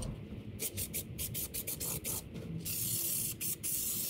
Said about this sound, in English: Now we're going to spray some adhesive in the back of the headliner.